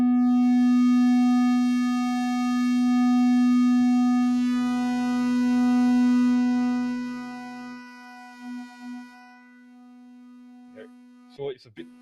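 A synthesizer plays a steady square-wave tone with a second voice layered in, a held buzzy pitch that thickens partway through, then drops to softer bursts and a few clicks near the end.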